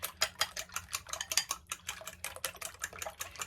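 Fork or whisk beating eggs in a bowl for a vegetable omelette, a quick, steady rhythm of light clinking taps against the bowl, close and continuous with no talking.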